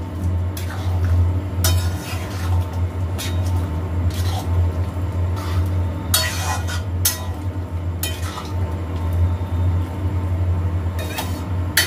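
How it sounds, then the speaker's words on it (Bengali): Boiled potatoes and peas are stirred with spices in a pan for ghugni, giving repeated scraping clinks and bursts of utensil noise over a steady low hum. "দিয়ে মশলার সঙ্গে ভালো করে নাড়িয়ে নেব"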